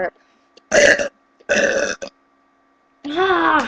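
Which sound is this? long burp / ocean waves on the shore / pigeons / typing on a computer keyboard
long burp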